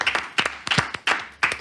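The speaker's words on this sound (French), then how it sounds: "On pratique évidemment ici l'applaudissement de confiance avant les performances." A small studio audience in a radio music loft claps in short rhythmic bursts before a performance, sharp and close, in four or five quick clusters with brief gaps.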